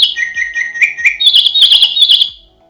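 Smart doorbell alarm tone selected in the Tuya Smart Life app: a loud, bright electronic chirping melody with rapid repeated tweets, playing alone for about two seconds before cutting off.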